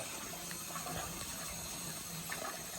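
Water bubbles and gurgles steadily as air is purged from a boiler heating loop during a heating service call, a continuous close-up wash of flowing water.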